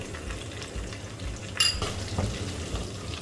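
Dried chilli and bay leaves fry in hot oil, a steady close sizzle with faint stirring and a few utensil clinks over it.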